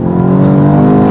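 A 2023 VW Golf GTI's engine roars loud and close under hard acceleration, a dense rising drone with no talk.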